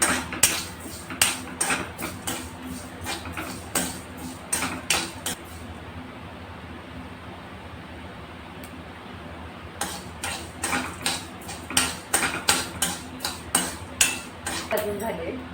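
Cloves, black pepper and fenugreek seeds dry roasting in a pan give repeated sharp clinks and scrapes of stirring, in rhythmic bursts, with a quieter pause midway before the clattering resumes.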